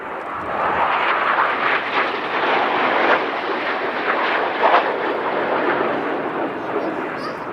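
A display aircraft flies the rolling heart manoeuvre at the Cosford Airshow, its engine a steady, loud broadband roar that holds across the whole stretch with slight swells as it passes.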